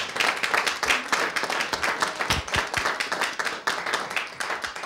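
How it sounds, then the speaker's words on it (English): An audience at a community energy forum gives a round of applause, a close, dense patter of individual hand claps with uneven rhythm that carries on without pause. "If we could give them all a round of applause"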